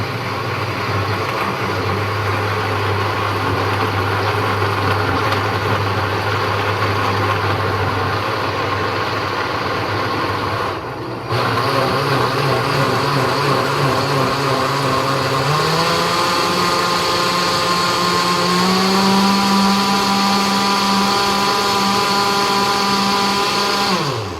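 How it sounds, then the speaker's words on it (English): Electric blender running on its chop setting while chopping goat meat for Jamaican curry goat, a steady loud motor whine that briefly drops out near the middle, then restarts and climbs in pitch as it keeps spinning. "I'm gonna close my blender, and all right, guys, so I'm gonna start. I'm gonna press chop."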